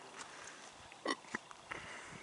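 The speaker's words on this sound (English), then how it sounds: "pen full of cattle behind me here too" Cattle in a farm pen make a few faint, brief grunts and snorts at a distance, with quiet pauses between them.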